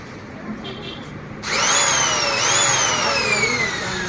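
A handheld power drill whirs at high speed after a quieter start, its motor pitch rising and dipping as it is switched between reverse and forward, with a voice talking faintly over it.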